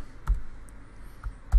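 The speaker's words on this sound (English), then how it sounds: "He'll type in his email address" Keys on a computer keyboard are tapped to enter an email address, giving a few sparse, close, soft clicks spread across a quiet stretch with no voice over them.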